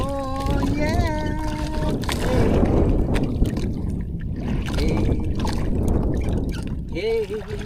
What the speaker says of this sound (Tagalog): Malakas pa rin ang agos mga amigo.